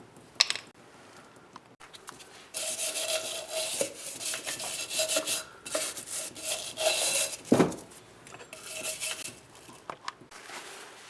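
A stiff brush scrubs the drum brake parts of a 2002 Jeep Liberty in uneven, gritty bursts of rubbing with short pauses, close by and fairly loud, with no talking.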